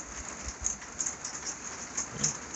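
Steady rain falling outdoors on a farm with calves, a soft continuous hiss with scattered drops, quiet and even throughout.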